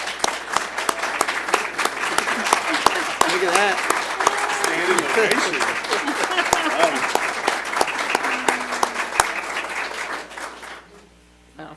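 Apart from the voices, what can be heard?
audience applause for the school board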